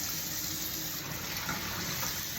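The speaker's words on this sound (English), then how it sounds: "now after that sits for a bit, turn your water back on" Steady tap water running at full flow to rinse a Calphalon grill pan during cleanup, a constant broadband rushing hiss that is close and unbroken throughout, with no talking.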